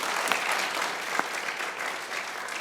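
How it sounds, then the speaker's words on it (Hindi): A studio audience on a Pakistani cricket talk show claps for cricketer Shahid Afridi, a brief burst of steady, fairly close applause with a couple of sharper claps standing out. "बहुत तालियां बजाइए लाला के लिए भाई।"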